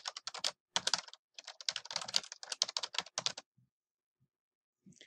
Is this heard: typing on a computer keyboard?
yes